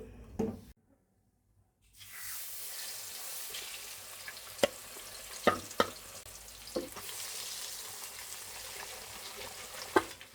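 Spiced chicken chops fry in a pan, a continuous hissing sizzle with sharp scattered pops that starts after a brief moment of silence.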